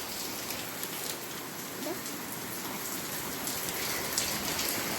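Heavy rain pours down steadily outdoors, a dense, continuous hiss of drops hitting surfaces that stays even and close throughout, with no voices.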